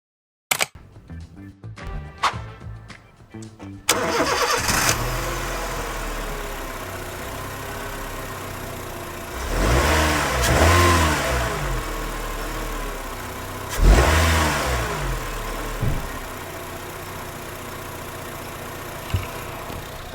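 A Honda Jazz GD3 hatchback engine cranks and starts after some brief nearby movement, then settles into a steady close idle broken by two distinct revs that rise and fall, all alone without talk.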